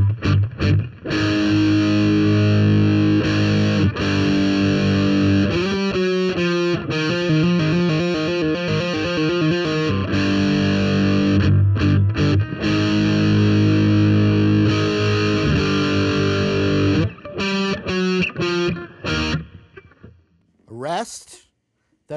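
A distorted electric guitar plays a heavy intro riff: loud, thick chugging power chords with rhythmic palm-muted stabs, sustained rings and brief gaps, fading out at the end.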